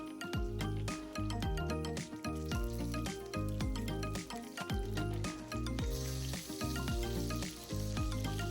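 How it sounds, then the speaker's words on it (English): Chicken pieces fry in hot oil over high heat in a home kitchen for a chicken parmesan, with a loud, continuous sizzle and crackle and rhythmic clunks of the pan or utensils. "I'm going to start by frying the chicken in some oil."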